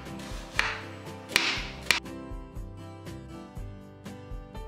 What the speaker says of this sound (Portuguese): Vou cortar a cebola aqui ao meio. E vou fazer umas fatias bem fininhas